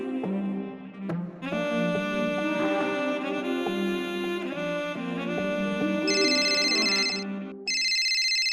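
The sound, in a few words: phone ringing with an incoming video call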